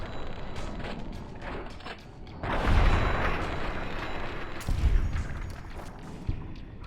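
Holorifle shots in Fallout: New Vegas Dead Money, two heavy blasts that swell and linger as booming bursts over a dense rumbling game backdrop, loud and close.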